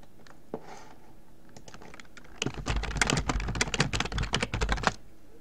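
Close, rapid clicking of computer keyboard keys as a note card title is typed, a few scattered taps at first, then a dense, steady run of keystrokes for about two seconds in a quiet room, with no talking.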